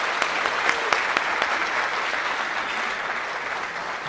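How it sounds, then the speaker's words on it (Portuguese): Dense, sustained applause from a conference audience at a PHP developer event, many hands clapping close and loud in an even roar for about four seconds with no talk over it. "Valeu, salva de palmas!"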